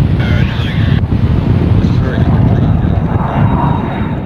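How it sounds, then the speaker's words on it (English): A CAC Boomerang fighter aircraft flies in at a WW2 Pacific airshow display, a broad, loud roar heavily buffeted by wind noise, with a narrator's voice faintly underneath. "The Boomerang now speeds in to drop a smoke flare, which will pinpoint the target for the other fighters."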